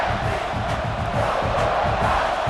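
Stadium crowd noise from a simulated college football video game, Missouri versus South Carolina, a steady loud roar that carries unbroken from start to finish.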